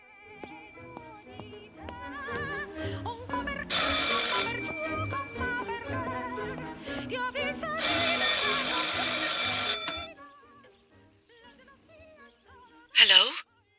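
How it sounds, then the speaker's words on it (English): Telephone ringing in the video game Martha Is Dead, two loud bursts of bright bell ringing separated by quieter gameplay music and ambience, then a brief sharp ring near the end. "I should pick up the phone but remain silent."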